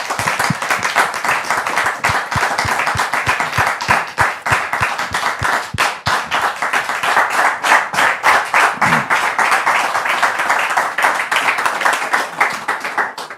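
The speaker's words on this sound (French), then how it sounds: "Merci pour vos applaudissements" An audience applauds a woman being welcomed on stage, loud close clapping with sharp individual hand claps standing out from the crowd, sustained and even throughout.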